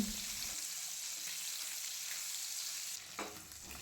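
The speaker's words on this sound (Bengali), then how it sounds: "কেটে রাখা পনিরগুলো দিয়ে দেব পনিরগুলোকে একটু লাল করে ভেজে নেব" Paneer cubes fry in melted butter, producing a steady, bright sizzle and crackle close up, with a brief shift and a few stirring sounds near the end.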